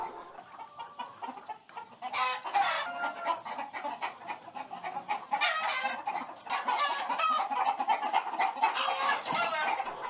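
Chickens and roosters at a monastery farm cluck steadily, with sharper squawks and bursts from several birds close by, alone without talk.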